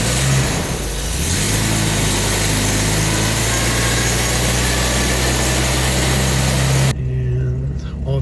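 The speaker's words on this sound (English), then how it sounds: "let's try and crank it over." A classic car's V12 engine cranks briefly, then catches and settles into a loud, steady idle with a deep rumble and broad mechanical noise close by. Near the end the engine note shifts lower and quieter, as if the revs drop.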